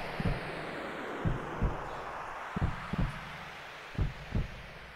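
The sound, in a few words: heartbeat sound in the video game Final Fantasy VII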